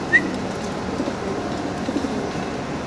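A pair of large, deep-red fancy pigeons coo softly nearby, with a short bird call at the start over a steady background patter.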